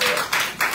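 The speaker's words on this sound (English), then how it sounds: "Can we clap for my sister?" A short, dense burst of audience clapping for a speaker's sister, steady and fairly close, with no talk over it.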